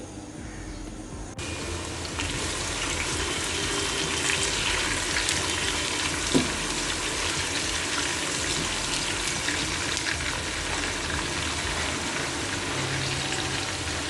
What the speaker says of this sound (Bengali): আমি এখন পেঁয়াজ বেরেস্তা করে নিচ্ছি